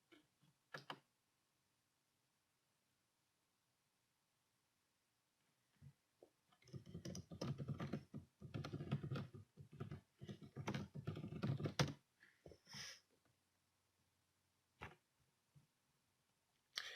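Keys clatter on a computer keyboard during an online typing test. After a few isolated taps and a long quiet gap, rapid keystrokes rattle close by for about five seconds, then thin out to scattered clicks.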